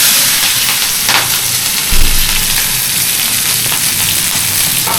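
Curry leaves, onion, ginger and green chilies sizzling in hot oil while South Indian upma is cooked, giving a steady, loud frying hiss with small crackles and no talking.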